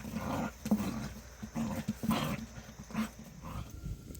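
Dog growling playfully outdoors, several low, rumbling growls in short bursts, fairly close and moderately loud, with no talking.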